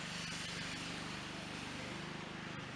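Neighbor's lawnmower running steadily nearby in a suburban yard, a continuous rough engine drone with a fast low pulse, fairly loud and unbroken, with no talk.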